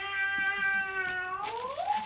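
A cat meows once in a long, drawn-out call with a clear tone that rises and bends near the end, heard alone at moderate loudness.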